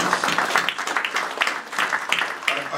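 Audience applause for presenters at a Long Island business event: steady, dense clapping from a crowd that fills the room evenly from start to finish.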